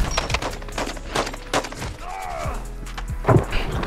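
Rapid bursts of gunfire in a first-person shooter video game, sharp repeated shots in quick volleys with thuds between, loud and close.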